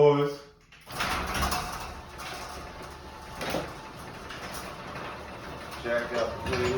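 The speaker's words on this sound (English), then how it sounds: "Slide the doors." Heavy sliding doors rumble open at a garage where an oil change on a 2018 Chevy Equinox is about to begin, giving a long scraping roll with a few knocks, close and loud, just after a brief voice.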